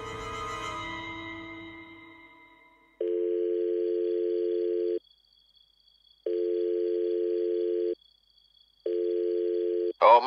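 A telephone ringback tone in a narrated Tagalog horror story, three evenly spaced two-second electronic tone bursts separated by silence, sounding clean and close after a fading musical tail.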